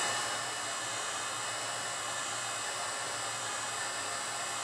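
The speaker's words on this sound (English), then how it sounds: "I'm just going to heat this up nice and hot to be able to separate it nice and easy." A heat gun blows hot air onto an iPad screen during a repair, making a steady, loud, continuous whooshing hiss that holds unchanged throughout with no voices.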